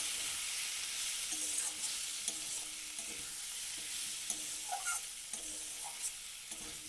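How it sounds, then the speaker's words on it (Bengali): Okra and dry-roasted gram flour stirred together in a pan, with a soft continuous sizzle and scraping strokes of the spoon recurring every second or so, close and alone without talk. "দিয়ে এবার সব কিছু একসাথে নাড়াচাড়া করব"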